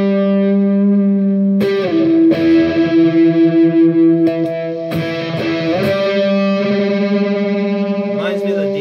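A Yamaha RGS 121 electric guitar played through distortion rings out sustained, heavily saturated chords and notes, struck several times in turn with long, buzzing decay and a touch of reverb.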